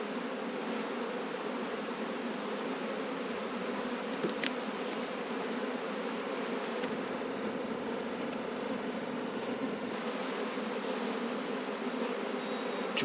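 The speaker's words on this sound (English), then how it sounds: "Lots of bees on this frame." A dense swarm of honey bees buzzes steadily around open brood frames pulled from a hive, a continuous close, even hum with a few louder individual bees darting past.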